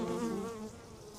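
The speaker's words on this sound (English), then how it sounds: "The bees look good. They're active, but they're calm." Honeybees in an opened beehive give a continuous, close, steady buzzing hum with no voices over it.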